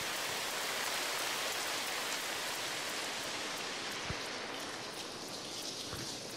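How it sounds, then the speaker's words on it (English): Video game cave rain: steady, dense rain hiss fills the space, with a couple of sharper drops landing partway through. "now I've got my cave rain behavior"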